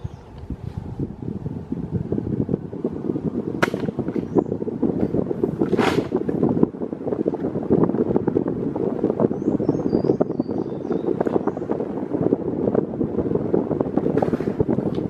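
A Philco Turbo PVT400 electric fan runs on its lowest speed, giving a steady, continuous whooshing drone of moving air close to the microphone, with a few faint knocks and squeaks over it.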